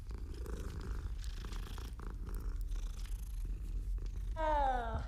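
Cat purring in the Hogwarts Legacy video game, a close, steady rumbling purr that runs throughout and ends with a short rising meow-like call.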